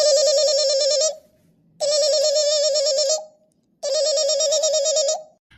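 A telephone rings in three long bursts of a bright, buzzing tone with short silent gaps between them. The ringing is loud and close, and no one speaks.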